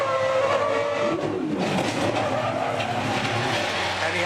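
Onboard Jamie Whincup's race car as it slides on a slippery, shiny apron at the edge of turn 6, a loud, close engine roar with tire scrubbing and skidding noise sweeping through the whole stretch, with no voices.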